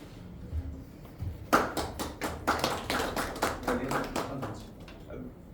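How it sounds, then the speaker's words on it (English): A small meeting audience at a GTMC speaking club applauds a volunteer speaker, the clapping starting abruptly and continuing steadily for several seconds, fairly close and moderately loud. "A big round of applause for Pankaj"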